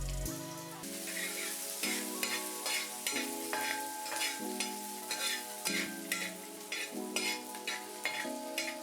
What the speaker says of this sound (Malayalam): ഒരു ഉരുളിയിലേക്ക് 2 ടേബിൾ സ്പൂൺ എണ്ണ ചൂടായി കഴിയുമ്പോൾ നീളത്തിൽ അരിഞ്ഞു വെച്ചിരിക്കുന്ന ഇഞ്ചിയും വെളുത്തുള്ളിയും ചേർത്ത് നന്നായിട്ട് ഇളക്കി കൊടുക്കുക